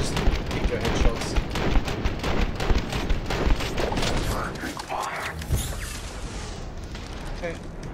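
Dense, continuous video-game gunfire rattles loudly through the first half, thinning into scattered shots and effects later, with a voice talking over it.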